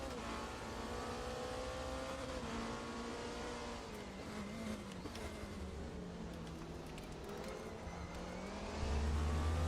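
Porsche race car in the RaceRoom racing game, its engine note rising and falling through gear changes with whining harmonics, a continuous in-car drone that swells louder near the end.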